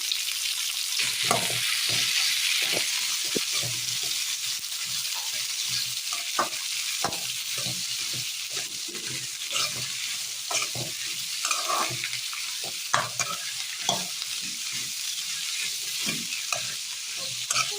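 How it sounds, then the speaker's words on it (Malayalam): Potato, okra and green chilli sautéing in a pan for a Kerala curry, a steady sizzle broken by frequent rhythmic scrapes and knocks of a spoon stirring, close and continuous with no talking. "പച്ചമുളക്, ഉരുളക്കിഴങ്ങ്, വെണ്ടയ്ക്ക, പച്ചക്കറികളെല്ലാം ഒന്ന് ഇട്ട് വെച്ച് ഒന്ന് വഴറ്റിയെടുക്കാം"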